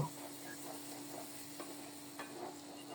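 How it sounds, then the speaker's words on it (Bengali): Quiet sizzling in a pan with a few soft scraping strokes of stirring, faint and steady. "এবার শুধু নেড়ে চেড়ে খুব সুন্দর মতো রান্না করে নেব।"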